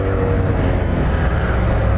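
A Honda Grom motorcycle engine with a new clutch spring and oil pump drones steadily in second gear while cruising, close and loud, with wind rushing over the microphone.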